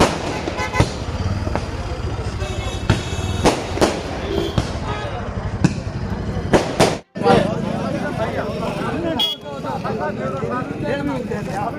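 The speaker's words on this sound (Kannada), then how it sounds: "ಬಿಜೆಪಿ ಮತ್ತು ಸಿಪಿಐಎಂ ಪಕ್ಷದ ಕಾರ್ಯಕರ್ತರು ಪಟಾಕಿ ಸಿಡಿಸಿ ಸಿಹಿ ಹಂಚಿ ಸಂಭ್ರಮಿಸಿದರು" Firecrackers burst loudly and repeatedly as party workers celebrate cooperative bank election results at Somanathapura, with sharp cracks over a dense, noisy crowd background and a voice speaking throughout.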